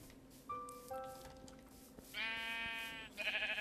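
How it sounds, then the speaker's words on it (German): White sheep in the video game Minecraft bleat in several clear, wavering calls, one after another, close up over a soft game background with no talking. "Weiße Schafe, ey."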